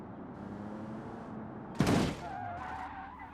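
BMW M2 mod crashing in BeamNG.drive: a quiet engine drone is broken by one sudden loud impact burst, then the car keeps running faintly with tire and engine noise afterward.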